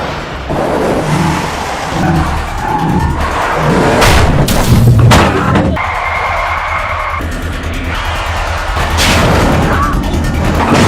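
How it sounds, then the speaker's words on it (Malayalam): A car flips and crashes during a film chase: heavy booming impacts and smashing crunches hit in a loud burst midway, set within a roaring, dense action soundtrack. "ആ ചേസിംഗിൽ കാങ്ങിന്റെ വണ്ടി തെറിച്ചിട്ട് അപ്പുറത്തേക്ക് വീഴാണ്"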